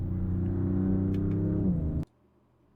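A Dodge car engine revving hard, a gruff, rumbling tone that climbs and holds for about two seconds before cutting off abruptly, then near silence.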